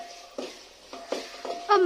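Tomatoes fry in a pot for handi chicken, stirred with a utensil in a few scraping strokes over a soft sizzle, the stirring growing louder at the end.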